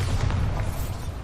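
The Bombarda blasting spell goes off in Hogwarts Legacy as a deep, rumbling boom that fills the moment and rolls on without a break, with no talking over it.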